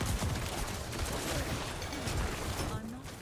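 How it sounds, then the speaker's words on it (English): A dense, continuous barrage of explosions from Diablo 4 gameplay in the Nightmare Vaults, a loud crackling and booming rush that thins slightly near the end. "And now we're just going through here and we're exploding everything."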